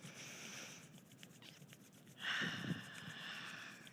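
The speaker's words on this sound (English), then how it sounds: "So rub those hands together." Hands rubbing together in a dance class for Parkinson's disease, a soft continuous brushing friction that grows louder and fuller partway through, heard close and alone.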